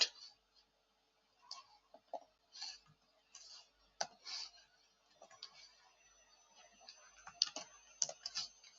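Python code being typed on a computer keyboard: quiet, close key clicks arriving in uneven clusters with brief pauses, growing denser toward the end, with no talking.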